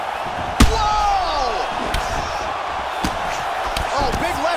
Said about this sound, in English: Oh, big left hook there.